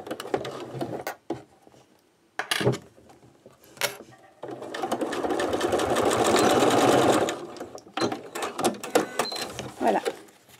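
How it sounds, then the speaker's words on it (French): Sewing machine stitching two fabric layers together with a long stitch length, running in a steady burst of several seconds between short bursts and handling clicks, close and fairly loud. "je vais piquer les deux épaisseurs ensemble"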